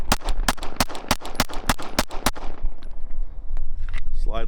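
A Glock 19X frame fitted with a Gen 3 G19 slide fires nine or ten sharp, loud shots in quick, even succession, then falls quiet to faint rustling and the clack of the slide.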